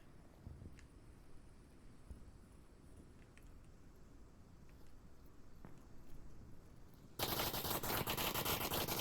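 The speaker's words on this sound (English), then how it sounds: "Shots coming out from Driver into the pre-fire into the bushes." Gunfire in the VR shooter Onward during a competitive match: scattered distant single shots over a low rumbling background, then a loud, dense burst of rapid fire taking over near the end, with no talk.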